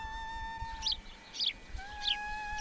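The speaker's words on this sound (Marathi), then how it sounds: "असं झाडाचा आवाज, पक्ष्याचा आवाज, चिमणीचा आवाज." Small birds, sparrows among them, chirp in short bright bursts over a steady whistling tone on a quiet village morning walk, with three separate calls spaced about half a second apart against low background rumble.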